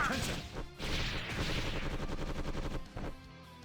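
A megaton punch attack lands in the action game Closers, a loud, dense burst of crashing, rapid-fire impact hits with whooshing bursts, close and sustained for a few seconds with no talk.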